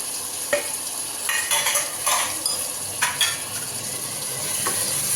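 Onions, chili, mint and coriander sauté in a pan with a continuous sizzle, while a spoon stirs and scrapes the metal in repeated bursts close by.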